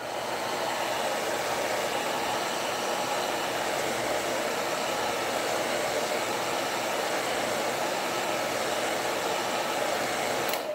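A hair dryer blows air over a freshly painted rustic wooden plaque decorated with a birdhouse stencil, running as a steady, close, continuous whoosh for the whole stretch.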